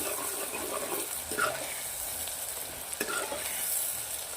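Spices and onion frying in oil, giving a faint, steady hiss with a couple of soft stirring sounds, heard alone at low volume.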